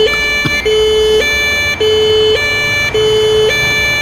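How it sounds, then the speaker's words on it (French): Ambulance siren wails in a loud two-tone alternating pattern in a paramedic simulator video game, continuous and close, with no talking over it. "regardez-moi ces gens qui courent alors qu'il y a l'ambulance qui arrive"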